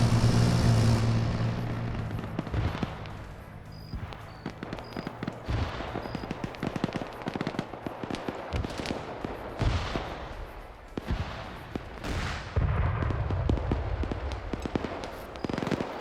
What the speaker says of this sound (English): AT landing short of the BMPs as the BMPs are returning fire